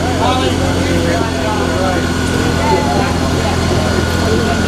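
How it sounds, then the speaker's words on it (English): A tractor engine rumbles steadily with a low idling drone amid a street parade crowd, with people talking and chatter running throughout. "Tractor."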